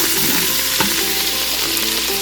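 Home-grown garlic frying in a pan for chicken noodle casserole, a loud close continuous sizzle with a faint stirring tap partway through.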